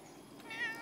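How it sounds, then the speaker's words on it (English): A single short meow from a big house cat, quiet and slightly distant, rising briefly in the middle of a quiet room. "Maiya, I'm surrounded by kitty cats."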